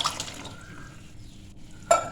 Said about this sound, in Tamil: இதை அந்த வேக வச்ச தண்ணியோட இதை கலந்துடணும்.